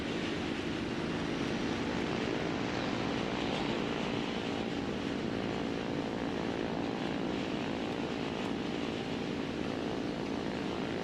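Yak-1B propeller fighter in War Thunder diving, its engine a constant loud, droning roar with rushing wind noise that stays steady throughout, with no talking.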